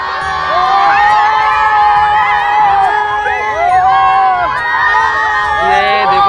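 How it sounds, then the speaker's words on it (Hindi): Crowd of children shouting and cheering at a Durga temple, dense high-pitched overlapping voices and whoops, loud and close, continuous throughout. "ये देखिए पीछे काफ़ी भीड़ लगी बच्चों की।"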